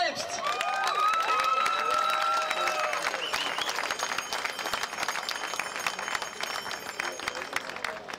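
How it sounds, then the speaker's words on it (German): Crowd applause and cheering from an audience at an outdoor rally on Potsdamer Platz in Berlin, loud and sustained at first and then slowly thinning out. "Einen Applaus für euch selbst!"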